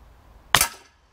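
A single sharp crack from a Beeman P17 air pistol at a shooting session, close and loud with a quick decay, alone in an otherwise quiet moment.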